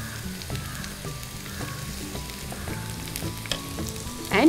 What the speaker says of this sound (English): and stir fry for 4 to 5 minutes on high flame